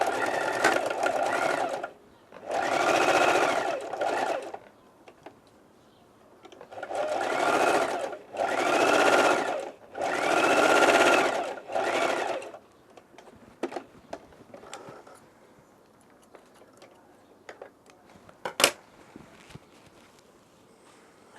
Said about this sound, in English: now I'm going to sew that